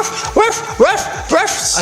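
A toy dog gives three quick, evenly spaced electronic barks, each a short rising-and-falling yelp, close and loud.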